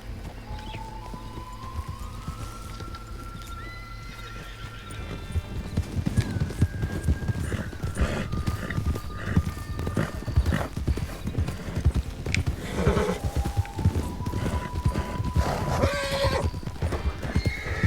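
Horses gallop with dense, rapid hoofbeats and repeated whinnies in the Red Dead game, an open-country chase that starts quieter and builds into loud clattering from several mounts.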